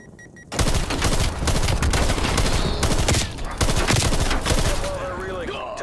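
Sustained automatic sentry turret gunfire in Call of Duty Cold War, loud and continuous bursts of rapid shots after a brief quiet start, with explosions and battle noise layered throughout.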